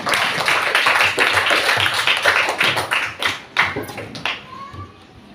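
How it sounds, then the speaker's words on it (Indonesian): A class of schoolchildren applauds a classmate named Bayu: dense, lively clapping from many hands for several seconds, breaking into scattered claps and fading near the end, with faint voices underneath. "beri tepuk tangan untuk teman kita Bayu"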